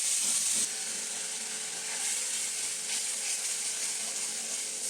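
Spice paste of turmeric, salt and homemade masala whisked with water hisses and sizzles steadily in a hot pan for a pangas fish curry in yogurt, an even close frying hiss with a brief louder burst at the start.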